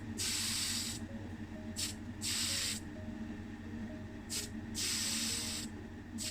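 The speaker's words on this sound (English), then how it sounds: "I'll just put on a nice healthy single layer of primer" Tamiya Fine Surface Primer in grey sprays from an aerosol can onto a model car body in four or five short hissing bursts with brief pauses between them, close and fairly quiet.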